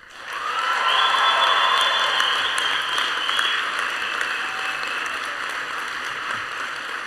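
Graduates' families and guests applauding at a university winter commencement, a broad sustained round of clapping that swells quickly and holds steady, filling a large hall with no speech over it.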